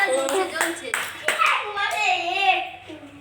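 Several people clap their hands in quick bursts, near and lively, while children and adults talk and exclaim over the claps.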